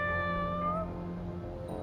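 A cat lets out a drawn-out, rising meow, close and clear, over a steady low background hum, with no voices.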